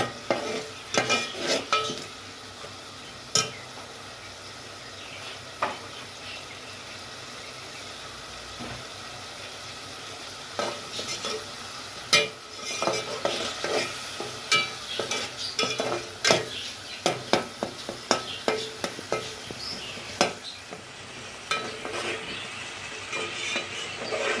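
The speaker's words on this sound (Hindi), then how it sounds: "दो से 3 मिनट टमाटर को हम इसमें पकाएंगे।" Tomatoes cooking in a pan for matar pulao, with a steady low sizzle under repeated scraping and stirring strokes of a spoon against the pan, fairly close and moderate in level, without speech.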